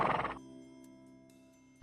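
A horse in the PS2 game Barbie Horse Adventure gives a short, bright neigh, which quickly fades into a quiet tonal hum.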